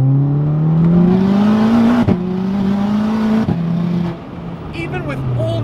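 A Stage 4 big-turbo VW Mk6 Golf R pulls hard in second gear from inside the cabin, engine note rising steadily with a brief gearshift break and a loud, continuous drone; a voice is faintly present.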